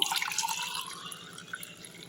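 Homemade sugarcane juice pours from close by into glasses, a continuous splashing, trickling stream that slowly softens, with no voices.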